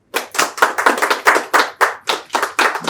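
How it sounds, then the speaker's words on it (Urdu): An audience claps to welcome a speaker at a motivational talk, a run of about a dozen sharp, close claps in an uneven rhythm, with brief gaps between bursts. "زوردار تالی سے آپ کا استقبال کریں۔"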